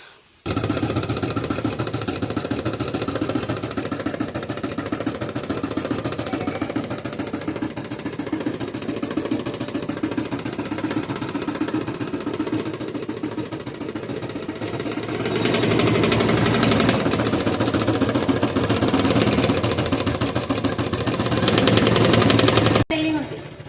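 An embroidery machine stitches the front of a design, a steady dense mechanical chatter running throughout and growing louder near the end, with no talk over it.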